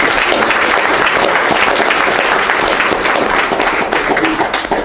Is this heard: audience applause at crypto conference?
yes